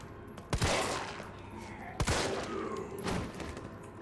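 Gunfire in Resident Evil 3 comes as two sharp, close shots, each followed by a short burst of echoing noise, with a softer bang near the end.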